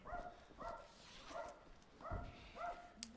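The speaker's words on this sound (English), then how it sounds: "There's a woman there waiting for a dog to go out. It gives us a little bark." A dog gives a few small, faint yips in a row at a distance outdoors, regularly spaced over a few seconds with some low background rumble.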